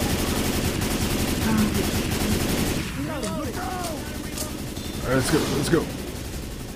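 Guns in the video game Left 4 Dead 2 fire in rapid automatic bursts that carry on steadily beneath people talking, with a louder cluster of shots near the end.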